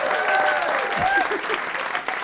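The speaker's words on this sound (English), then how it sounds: "Clap loudly." Audience applause at a live singing performance, a short burst of clapping with some crowd noise and a voice talking over it.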